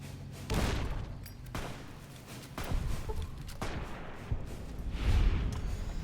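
A grenade blast and gunfire in Fallout New Vegas, several sharp shots and a heavier boom spread across a few seconds, mid-distance and moderately loud.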